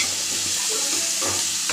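Tomatoes fry in a pan with a dense, continuous sizzle and soft stirring scrapes, close and steady throughout.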